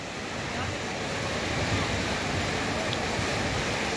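Steady broadband wash of sea surf at Digha beach, waves rolling in continuously with wind noise over the microphone, fairly loud and close, no clear break between swells.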